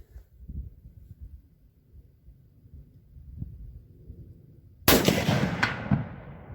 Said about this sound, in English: I'm going to sling one of the other rounds out there at that 200-yard steel again. I want to hear that ring.